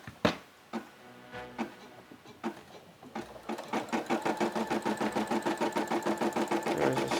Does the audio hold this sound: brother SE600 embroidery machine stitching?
yes